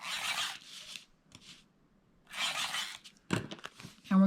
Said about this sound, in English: I'll be mounting this using my tape runner